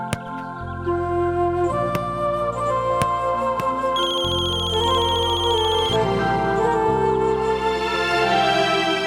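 A phone ringtone plays loudly and continuously, a repeating melodic electronic tune running without a break over backing music.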